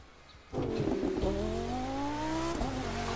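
An upgraded car in The Crew 2 revving up from idle into a steady, rising engine drone, close and loud, with a brief shift in pitch near the end as it keeps accelerating.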